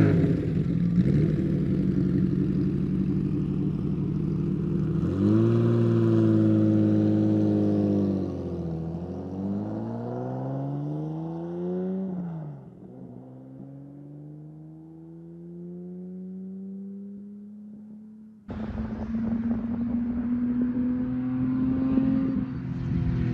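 An Aston Martin DBR1 race car makes fly-by passes, its engine note rising loud and close, then sweeping down in pitch as it goes past, a second quieter pass trailing off before another loud approach bursts in.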